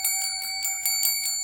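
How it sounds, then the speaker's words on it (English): A bell rung in a staged audiobook drama scene, several bright metallic strikes in a quick ringing sequence, loud and clear with no talking. "She rings a bell."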